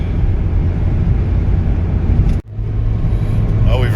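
A Toyota Matrix XRS with a 2ZZ engine, downshifted to fifth, drones steadily up a 10% mountain grade. The loud, constant in-cabin rumble dips for an instant partway through, then resumes.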